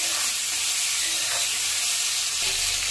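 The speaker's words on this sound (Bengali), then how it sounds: "হলুদ লবণ দেওয়ার পরে একটু ভালো করে ভেজে নেব" Fish for a sour dish fries in a pan with turmeric and salt, a loud, steady sizzle and hiss that continues without a break.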